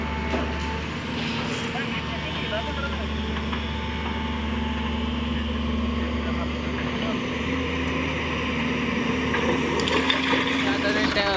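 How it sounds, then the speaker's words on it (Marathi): A diesel tractor engine drones steadily close by at a well construction site, with a low, throbbing rumble and a constant hum, continuing throughout without pause. "आपण ट्रॅक्टर चालू केलेला आहे"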